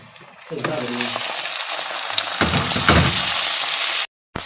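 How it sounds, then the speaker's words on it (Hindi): Chicken added to sautéed onions in hot oil, which erupts into a loud close sizzle with stirring and scraping, surging again midway before cutting off abruptly near the end. "अब प्याज मेरा सौते हो गया, मैं इसमें चिकन ऐड कर दूँगी।"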